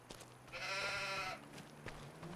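A single drawn-out sheep bleat, quiet and slightly distant, from livestock at a farm delivery point in Farming Simulator 25, over a faint low hum of background ambience.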